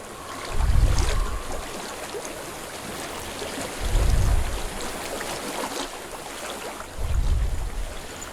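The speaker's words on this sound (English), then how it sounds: "I hear water." Flowing water in Hellblade: Senua's Sacrifice rushes steadily as a broad wash, with three slow, deep swells rolling in at regular intervals beneath it.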